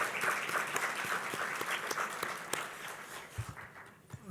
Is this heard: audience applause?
yes